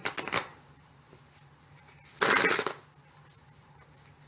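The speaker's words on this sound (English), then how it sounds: "now that I'm shuffling the cards" Tarot cards being shuffled by hand in a few riffling bursts: brief rustles near the start, then a louder, sustained shuffle in the middle, close and alone with no talk.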